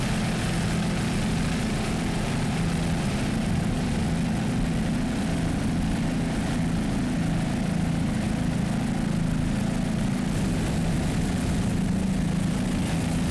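A 27-foot Warlock racing powerboat with a 500-horsepower Mercury engine roars steadily at a distance, a continuous low droning rumble that holds constant throughout with no voices over it.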